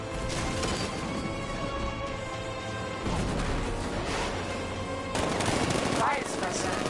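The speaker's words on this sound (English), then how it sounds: ".60mm cannon operational." Heavy cannon fire from a 60mm tank gun in the video game Batman Arkham Knight, dense repeated booming blasts over a steady mechanical and music bed, loud and close throughout.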